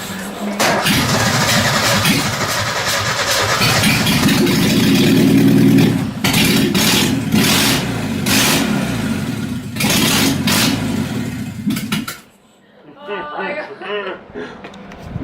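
An S12 Gazelle drift car's engine cranks, catches and revs loudly through several throttle blips close by, then cuts off abruptly and leaves quieter background sounds with people talking.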